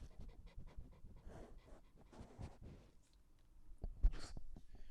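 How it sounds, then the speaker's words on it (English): A dog pants under a table during rain and thunder, quick breathy huffs coming close and fairly soft, broken by a brief pause and a sharp click or chew sound near the end. "There's a dog under my table."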